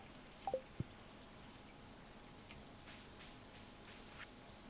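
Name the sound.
rain in video game Stardew Valley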